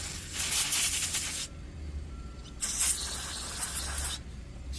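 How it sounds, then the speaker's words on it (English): Two long bursts of aerosol spray hiss from a can of parts cleaner, close by, separated by a short pause, with a third burst starting at the end. "spray some parts cleaner,"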